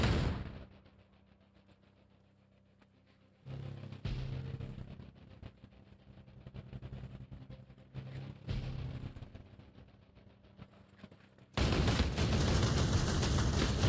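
Bursts of gunfire in Ghost Recon Breakpoint, rattling shots in clusters at moderate distance, with a loud sudden final barrage near the end after quieter stretches.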